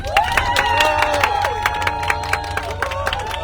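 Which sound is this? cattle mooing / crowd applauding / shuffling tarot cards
crowd applauding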